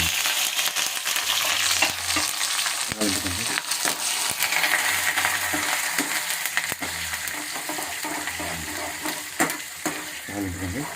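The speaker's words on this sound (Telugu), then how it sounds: "తాలింపు వేస్తాం" Hot oil sizzles and crackles loudly as spices, dried chillies and onions are tempered, with intermittent stirring and light clinks of a pan throughout.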